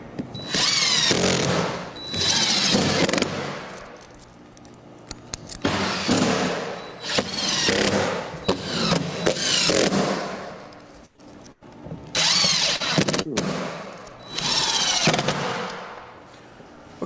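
A power drill drives screws into rail ties for model railroad track: several long whirring bursts, loud and close, separated by short pauses and sharp clicks, with no talking.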